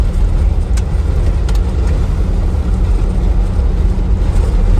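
A car engine runs on the road: a loud, continuous low rumble and road drone, close and steady throughout, with no voices.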